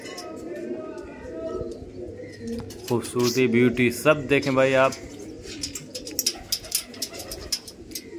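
Rampuri pigeons coo softly in soft repeated bursts nearby, while someone talks over them.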